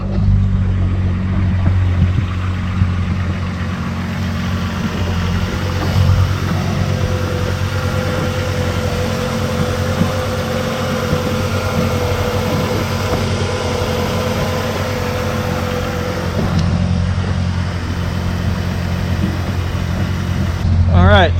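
A car idles steadily after a transmission repair, its low engine hum continuous and fairly loud throughout, with a faint whine rising near the end.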